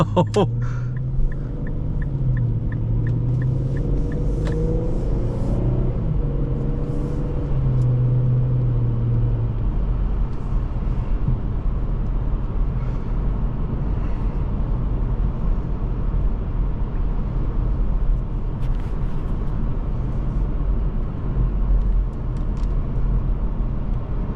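Inside a 2008 Infiniti M35x on the road, a steady low rumble of engine and tire noise persists, with a chime and someone speaking briefly near the start.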